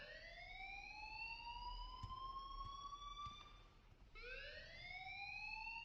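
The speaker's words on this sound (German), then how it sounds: "please turn off that alarm since that's your job" An electronic alarm wailing in the Life Is Strange video game, a long rising siren tone with bright harmonics, breaking off briefly before a second upward sweep restarts, fairly quiet.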